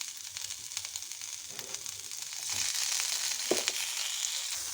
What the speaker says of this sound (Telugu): ఇప్పుడు చింతకాయలను వేసి వేయించుకుందామండి